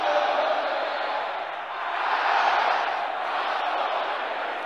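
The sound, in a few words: congregation shouting prayer loudly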